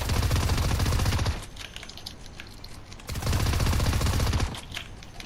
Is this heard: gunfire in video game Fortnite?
yes